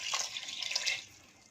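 Water pours into a pressure cooker holding raw rice and lentils, a soft close splashing that fades after about a second.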